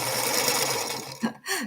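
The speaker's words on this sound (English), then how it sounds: "Late night sewing with Rita." A sewing machine runs steadily during late-night quilting, a loud close buzzing whir that stops abruptly near the end.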